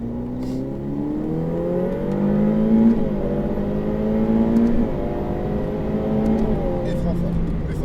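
A Ferrari F8 Tributo accelerates hard on the Circuit de Haute Saintonge race track. The engine note climbs steadily through several upshifts, loud and close inside the car, while an instructor talks over it.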